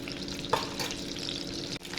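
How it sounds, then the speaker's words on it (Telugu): Eggs frying in hot oil in a pan for an egg dum biryani, with a steady close sizzle, a light stirring scrape partway through and a brief clatter near the end. "ఎగ్స్ కూడా కాస్త కలర్ చేంజ్ అయ్యే వరకు ఫ్రై చేసుకోండి"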